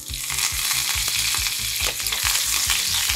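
Cumin, urad dal, chana dal, dried red chillies, green chillies and curry leaves frying in hot oil as a tempering for a Telugu yam and Malabar spinach curry. A steady, close sizzle runs throughout, broken by regular scraping stirs, with no talking.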